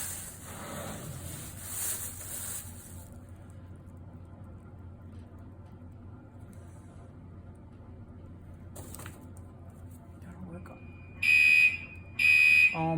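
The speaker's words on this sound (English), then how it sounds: "Oh my gosh, fire alarm" A fire alarm sounds in a ceramics studio, two loud, high electronic beep bursts near the end, after a stretch of quiet room noise with some brief talking.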